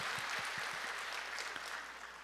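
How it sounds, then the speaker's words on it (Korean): Congregation applause inside a church during a Sunday morning worship service, a steady wash of many hands clapping that holds fairly even and then begins to fade over its couple of seconds. "하나님께 영광의 박수 올려드리겠습니다."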